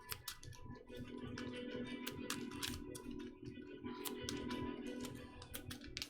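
Cards for the Arkham Horror card game are shuffled at close range, giving quick, dense bursts of riffling and snapping clicks over a low background hum.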